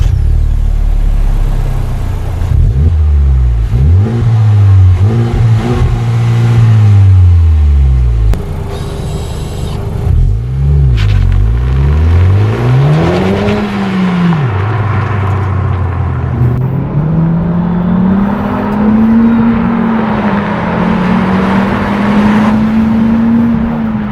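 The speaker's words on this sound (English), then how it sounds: "let's take the Civic Type R for a spin" A Honda Civic Type R driving and accelerating, its engine rising and falling in pitch through gear changes and a final long climb under steady road rumble, loud and close from inside the car.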